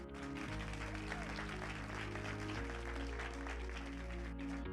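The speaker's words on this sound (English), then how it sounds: "Let's have a big round of applause for Joel Sandoval" Audience applause at the final night of a beauty pageant, a steady dense patter sustained through the whole stretch beneath loud music with sustained tones.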